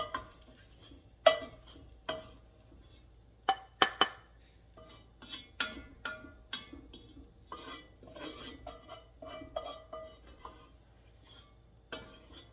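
Vegetables for chili sweat in a pot, heard as soft intermittent stirring with spoon scrapes and clinks against the metal, plus a faint sizzle between the strokes in a quiet kitchen.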